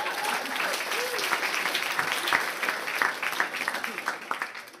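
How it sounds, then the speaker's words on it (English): An audience in Estonia claps for a comedian in a sustained, lively round of applause that stays full and close throughout, with a few voices faintly mixed into the clapping. "So give yourselves a little round of applause."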